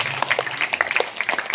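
An audience at a church feast honouring Our Lady of Health claps in thanks to the nuns, a brief burst of scattered, fairly close hand claps with uneven rhythm.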